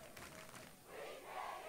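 Home crowd at a Wichita Heights high school football game against Wichita North, cheering and shouting in a broad continuous roar that swells toward the end, heard from within the stands.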